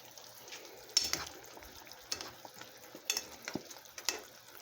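Mushrooms simmering in a cornstarch-thickened sauce with bok choy in a pan, a soft bubbling sizzle broken by several sharp utensil scrapes and clacks.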